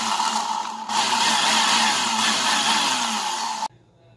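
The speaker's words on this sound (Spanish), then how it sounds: "Ya tenemos acá licuado el arroz de coliflor." Blender whirs loudly as it blends cauliflower into rice, a dense steady roar that steps up in speed after a brief lower start, then cuts off abruptly into near silence.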